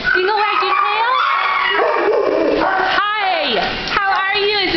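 A St. Bernard and other dogs at an animal shelter bark, yip and whimper in a loud, continuous, overlapping chorus, close by, with high whining tones sliding up and down.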